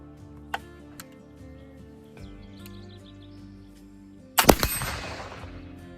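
A single loud black powder gunshot from a Cottonwood rifle cracks out near the end, its smoky boom trailing off, after a few faint ticks and clicks against quiet outdoor background.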